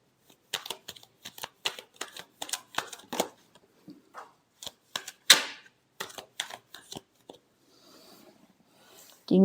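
Tarot cards being shuffled by hand, a quick series of crisp riffling snaps and slaps, close and clear, with short quiet gaps near the end.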